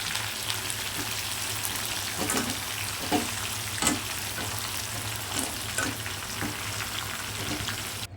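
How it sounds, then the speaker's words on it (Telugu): Chillies, onions and curry leaves deep-frying in oil in a potato recipe, a loud continuous sizzle with a low steady hum beneath and regular clinking stirs every second or so. "కట్ చేసి ఉంచుకున్న మిర్చ్ ఆనియన్స్ అండ్ కరివేపాకు ఆయిల్లో డీప్ ఫ్రై చేసుకోవాలి"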